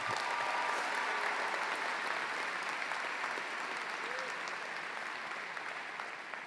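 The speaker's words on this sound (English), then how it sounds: "Let's have another round of applause for the class of 2019, please." Sustained applause fills the hall at a 2019 high school commencement ceremony for the graduating class, a broad even wash of clapping from a large crowd that slowly fades.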